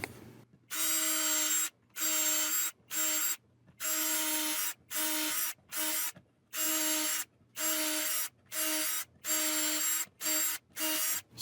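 A power drill bores screw holes through a guitar neck in a rapid series of about a dozen short, even whirring bursts with brief pauses between them, close and steady.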